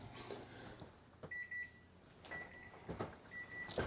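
Oven control panel being set to 375, several short electronic beeps from close by, spaced unevenly, with soft clicks and light kitchen handling between them.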